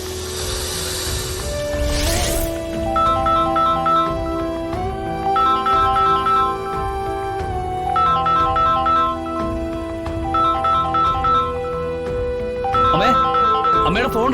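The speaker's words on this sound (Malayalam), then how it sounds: "അമ്മയുടെ ഫോൺ റിങ് ചെയ്യുന്നു." A mobile phone plays a looping melodic ringtone, loud and close, its repeated bright phrases continuing for many seconds over background music with speech mixed in.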